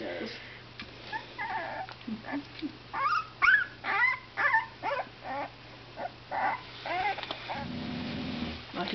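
A Cardigan Welsh Corgi dog whimpers and yips in short, repeated high cries, close by, with a steady low hum underneath.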